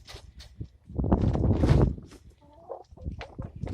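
A broody hen in a kennel-style enclosure gives low, grumbling warning calls of disapproval. The rough clucks swell and fade over a few seconds, fairly close, with light shuffling around them.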